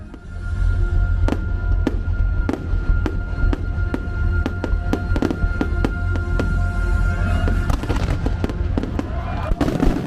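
Fireworks bursting repeatedly in the distance at Disney's Boardwalk, sharp booms and crackles at irregular intervals over a low rumble of crowd noise.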